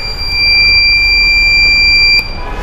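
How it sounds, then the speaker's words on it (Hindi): A women's safety device buzzer sounds a steady, loud electronic tone that holds for about two seconds and then cuts off, with several high pitched whining lines over a background rumble. "इसमें एक बटन है, जब इसको दबाया जाए तो बजर"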